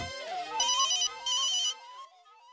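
A mobile phone plays a loud, close electronic ringtone melody, a bright looping tune sounding alone for a couple of seconds before it cuts off.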